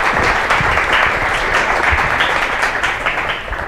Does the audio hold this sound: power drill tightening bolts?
no